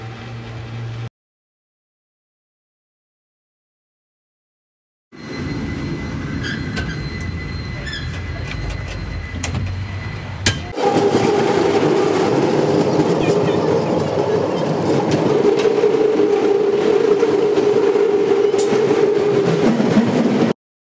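A San Francisco cable car ride near Fisherman's Wharf: after a silent gap, a steady rumble of the moving car builds, then a loud, continuous rolling roar with squealing wheels and rattling runs close by, with speech mixed in.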